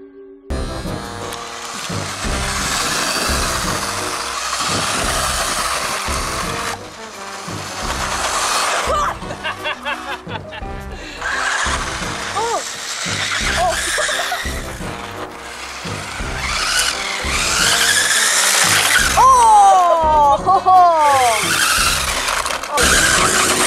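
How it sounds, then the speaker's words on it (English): An Udi RC Breaker Drift Truck, standard and Pro versions, whines and skids through drifts, with sharp tire squeals and rising motor pitch sweeps near the end, steady and fairly loud with people talking over it at times. "we tested out the Udi RC Breaker Drift Truck and the Udi RC Breaker Drift Truck Pro"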